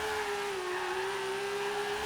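A modified R31 Nissan Skyline drift car in a racing video game revs steadily at high pitch in third gear, a sustained even whine holding nearly constant over a dull background.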